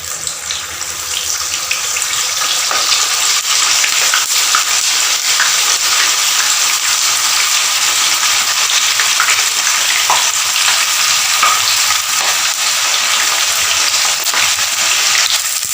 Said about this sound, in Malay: We'll start frying this up, and then we have to cool down the tofus.